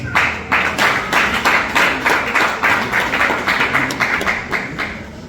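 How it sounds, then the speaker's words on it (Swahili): A church congregation claps together at a revival service in steady, rhythmic bursts, loud and close, with no talk over it. "tupigie Mungu makofi mazuri"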